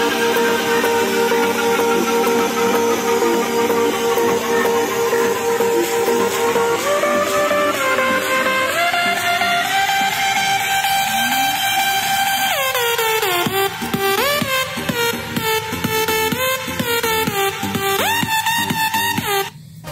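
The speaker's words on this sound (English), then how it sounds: "just go ahead into the YouTube and play some music in full audio" Music plays at full volume through a Kingone K5 portable Bluetooth speaker: a continuous, dense mix of sustained tones and melody, with the texture growing busier and more rhythmic in the second half.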